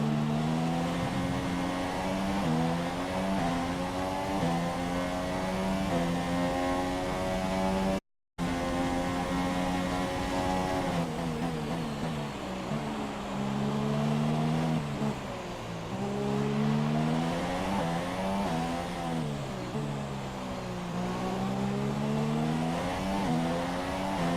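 Several Formula 1 car engines in the video game F1 2017 drone loudly with shifting pitch, dropping as the cars lift off the throttle on a straight and rising again, with a brief dropout partway through.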